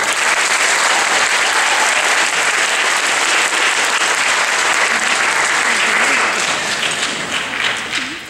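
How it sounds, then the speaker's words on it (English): Audience at the 2019 Cypress Bay High School chorus district event applauding the Advanced Women's Chorus: loud, dense, continuous clapping throughout, easing off near the end with faint voices beneath. "Please welcome the Cypress Bay Advanced Women's Chorus with a round of applause."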